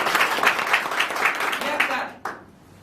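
An audience gives loud applause for three company directors at a Rootpure India joining meeting in Balotra, Rajasthan: dense, sustained clapping that rises and falls briefly, then cuts off abruptly near the end.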